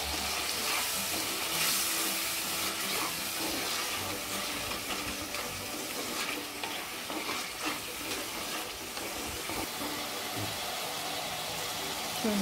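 Tomatoes sauté in a pan for tomato coriander chutney, giving a continuous, even sizzle and bubbling frying sound close by, with no one talking.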